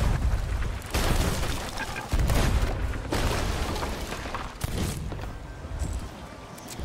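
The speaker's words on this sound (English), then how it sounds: "Island cannons are starting to shoot at us now." Cannons fire from an island fort at a pirate ship in a naval video game, loud repeated booms and blasts thudding over continuous battle noise roughly every second or two.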